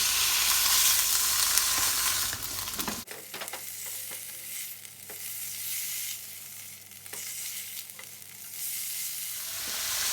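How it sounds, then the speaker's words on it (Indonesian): Chicken stir-fried with garlic and shallots in a hot pan, a loud hiss of sizzling as the meat goes in, then steady crackling with repeated stirring and scraping close by. "Kalau bawang putih, bawang merahnya sudah layu, masukkan daging ayam."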